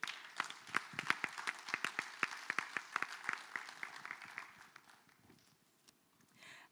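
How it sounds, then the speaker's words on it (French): A forum audience claps to welcome a speaker, sparse and fairly distant, with individual claps standing out in an uneven rhythm that thins and fades toward the end. "Je vous invite à l'applaudir."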